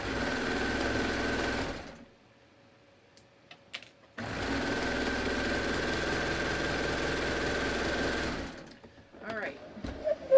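A domestic sewing machine stitches the last seam of a garment sleeve in two steady, loud bursts of whirring needle motor, separated by a short pause with faint handling sounds.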